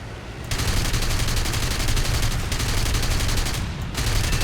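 Aircraft machine guns in War Thunder fire a long, loud, steady stream of rapid shots that pause briefly twice before resuming, with no talking over them.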